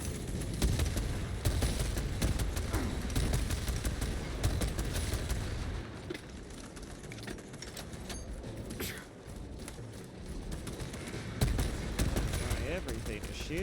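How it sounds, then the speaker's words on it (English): Enemies lay down dense, continuous gunfire in the Space Marine 2 video game: rapid bursts, booming impacts and rattling shots pile up loudly for the whole stretch, easing slightly midway before building again. "Everything is shooting at me."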